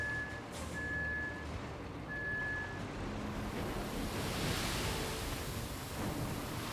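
Reversing beeps from a dump truck in RoadCraft: three steady electronic tones in a row, over a constant rumble of engine and wind-like noise, then the beeping stops while the low drone carries on.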